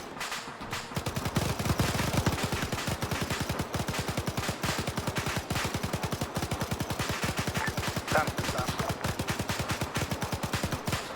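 Machine gun fire in Arma 3 rattles in long, rapid, evenly spaced bursts of loud shots that continue almost without pause for about ten seconds.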